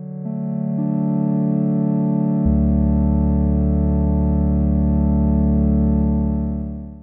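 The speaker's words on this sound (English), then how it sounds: "We're making a MIDI playable polyphonic synth in this video" A MIDI-playable polyphonic synth patched in VCV Rack builds a sustained chord as notes stack in one after another and a deep bass note joins, holding a steady buzzy drone before fading, with no voices.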